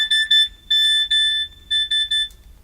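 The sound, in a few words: old SMS text message ringtone beeping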